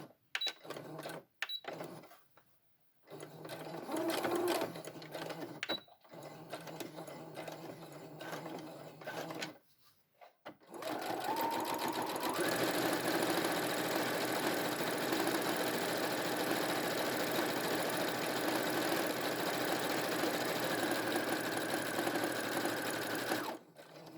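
Domestic sewing machine set to a 2.5 stitch length running a fabric hem, loud and close, with short stop-start bursts at first and then a long steady whirring run of stitching.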